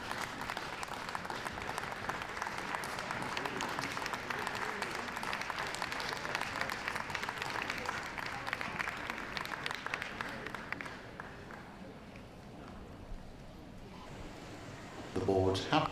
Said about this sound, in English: You may applaud your favourite.